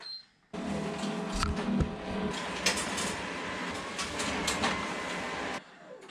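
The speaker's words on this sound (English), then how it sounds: "The reason that I'm letting it print and dry for a little while is so there's less paper jams" A risograph printer runs off comic zine pages in a steady, loud mechanical whir with rhythmic paper-feed clatter, starting abruptly after a brief pause and stopping near the end.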